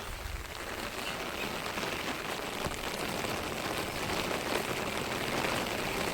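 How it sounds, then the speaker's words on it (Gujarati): Steady, heavy rain pours down without pause, a dense continuous hiss of drops striking surfaces close by. "વરસાદ ફૂલ ચાલુ જ છે"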